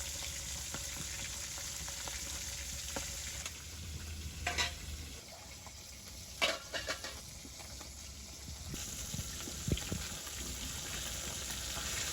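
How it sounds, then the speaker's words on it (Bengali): Fish fry in hot oil with a steady, broad sizzle throughout, broken by a few louder crackles and spatters, close by with no talk over it. "তেল হয়ে গেছে, এখন মাছগুলো দিয়ে দিব। মাছ দিয়ে দিচ্ছি।"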